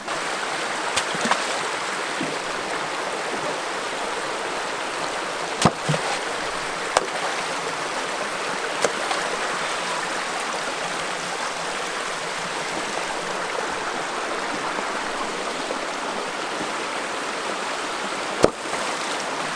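Steady broadband rush of a stream swollen by inches of rain, flowing continuously, close and fairly loud, with a few faint knocks and no voices.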